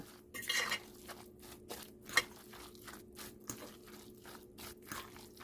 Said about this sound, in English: Go ahead and get this mixed up.